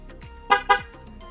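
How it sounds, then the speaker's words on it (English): A Ford Fusion horn gives two short, close honks in quick succession as a key-fob warning after the door shuts, with a quieter ambience between and around them. "It honks twice at you."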